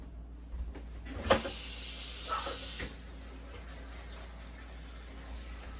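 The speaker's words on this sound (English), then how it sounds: "get them, run cold water over them, get them down to room temperature right away so they don't cook anymore" Cold tap water gushes over cooked pasta for about two seconds, a bright hissing rush with a splashy start, then eases to a faint steady trickle.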